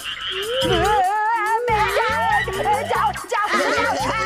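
Rapid, warbling frog-like croaks, sounding voiced and cartoonish, repeat over a bouncy musical backing.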